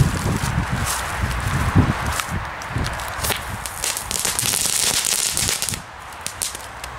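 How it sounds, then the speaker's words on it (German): Crackling Ball firework, also called Powerball, bursting into a dense rapid crackle of many sharp small pops, loud and close, tapering off toward the end. "Der Crackling Ball oder Powerball."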